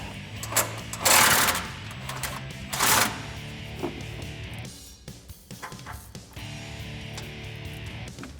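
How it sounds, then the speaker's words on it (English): A ratchet with a 1/2 inch socket backs out an exhaust bracket bolt high up under a Jeep Wrangler JL 2.0L, giving uneven bursts of fast, close mechanical clicking. "gonna use a 1/2 inch socket and I'm gonna back it out"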